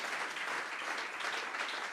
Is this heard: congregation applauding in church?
yes